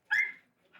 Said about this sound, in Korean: 안에 들어서자 철창에 갇힌 개들이 보입니다.